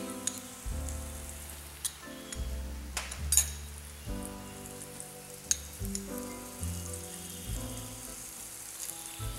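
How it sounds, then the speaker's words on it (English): Chopped shallots, leek and celery sauté in a pan with a faint, steady crackling sizzle, punctuated by a few soft clicks over a low background hum. "Saute till translucent color."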